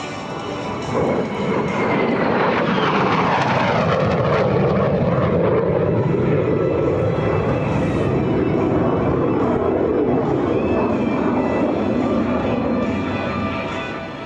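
A MiG-17 jet fighter roars past during an air show display, a loud, sustained engine rumble and whoosh that swells and holds steady for over ten seconds before easing slightly.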